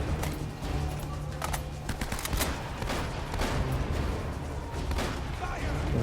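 Dense game gunfire from Uncharted: Drake's Fortune, a steady run of sharp shots and impacts across the whole stretch, loud and busy, with a voice talking faintly underneath.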